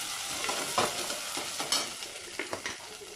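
Ginger garlic paste stirred into dhalcha frying in a pan, a soft continuous sizzle broken by several scraping stirs and light clatters of a spoon against the vessel, close and fairly quiet, with no talking.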